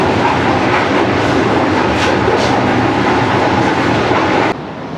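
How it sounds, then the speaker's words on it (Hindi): The Shalimar Express, an AC Standard train, rumbles along the rails in Pakistan's Sindh and Punjab with loud, continuous clattering heard from inside. The noise drops abruptly near the end. "ठीक 5 बजे ट्रेन हमारी रहीम यार खान रेलवे स्टेशन पहुंच चुकी है।"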